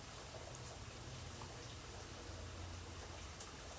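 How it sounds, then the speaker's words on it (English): Rain falling on a rainy day, heard from indoors as a quiet, uniform wash of fine hiss that stays steady and unbroken throughout, with no voices. "It's raining."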